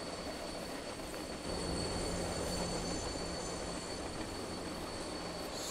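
A video-game train rumbles steadily along its track, a dense continuous roar with faint high metallic squealing layered on top.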